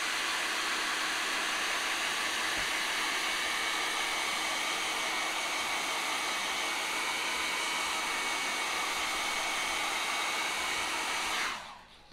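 Heat blower blasting over a glass paint pour, a loud continuous whooshing roar held steady and close for about eleven seconds before cutting off abruptly.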